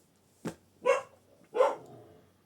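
Pet dogs in a French home bark three times in uneven bursts, the first short and sharp and the last two fuller and ringing, close by in a quiet room.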